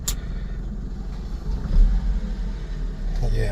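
A 2000 Mitsubishi MiniCab dump truck in four-wheel drive creeps forward, its engine giving a low, steady rumble with a slight swell midway, heard from nearby.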